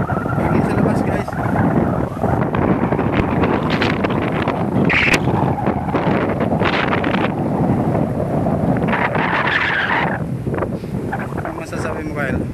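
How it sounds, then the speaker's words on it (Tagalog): Strong wind buffets the microphone at Bagulayag beach in a steady, loud roar, with faint surf underneath while people talk nearby. "Hangin sa labas guys."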